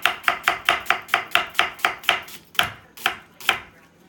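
Onions chopped with a knife on a board, a fast even run of about a dozen crisp knocks that slows into a few spaced, heavier cuts at the end, close and clear with no talking.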